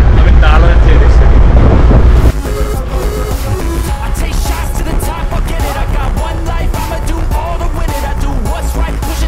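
Choppy river water slapping against a rocking boat, a steady loud wash of wave and wind noise close to the microphone, with faint voices underneath.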